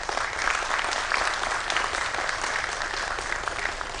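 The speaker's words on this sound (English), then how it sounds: "Can we once again hear a round of applause for you people present here?" Steady, dense applause from a conference audience at an international coatings and ink show, sustained and evenly loud throughout with no talk over it.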